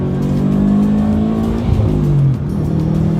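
A Subaru WRX hatchback engine drones loudly at steady revs, then shifts pitch partway through as the revs drop and climb again, close and continuous with no voices.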